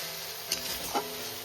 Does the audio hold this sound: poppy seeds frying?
yes